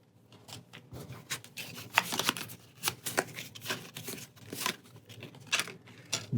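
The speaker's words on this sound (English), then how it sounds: "And shuffling that into our deck." Cards are shuffled into a deck during a Pathfinder Adventure Card Game session, with close, crisp riffling and rubbing bursts repeating irregularly at a quiet level.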